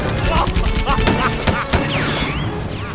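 Several gunshots go off in an action short film, as loud sharp bursts within a dense, busy mix that includes voices.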